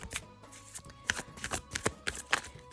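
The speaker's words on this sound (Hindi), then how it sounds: "अच्छे से इन्हें शफल कर लेते हैं।" Osho Zen tarot cards being shuffled by hand, with quiet, crisp riffling bursts repeating in an uneven rhythm, close up and soft.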